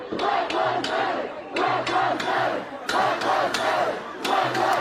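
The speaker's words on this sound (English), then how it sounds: "You can hear Black Lives Matter. You can hear a lot of chanting going on." A large protest crowd chants Black Lives Matter in loud, rhythmic unison, the phrase repeating in regular bursts with short gaps between them, close and dense with many voices.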